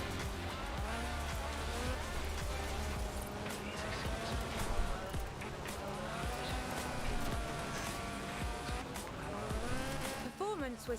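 A car sliding in the Forza 4 racing game, tuned with stiffened suspension, improved anti-roll bars and a 2.2-litre slant four-cylinder engine: a loud, continuous engine roar with tire squeal and skidding, while a voice talks over it.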